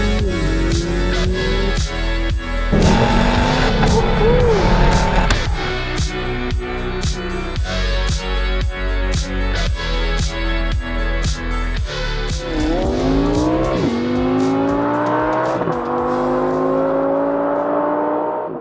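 A loud 2018 Ford Ranger 3.2L five-cylinder pickup truck engine revving and accelerating through gears, with rising and falling pitch sweeps, steady and close throughout.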